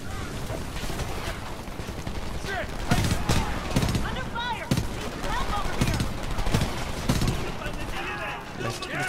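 Heavy gunfire in Homefront, bursts of automatic shots and scattered single cracks rattling through a dense battle din, with voices calling out now and then.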